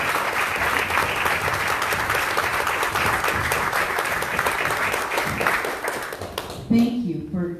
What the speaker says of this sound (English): Let's give all the candidates an applause.